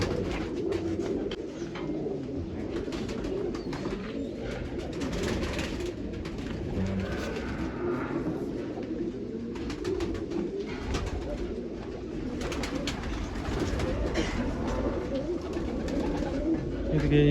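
Pigeons coo repeatedly at a dairy farm in Nashik, Maharashtra, amid a busy, noisy background, with people talking throughout.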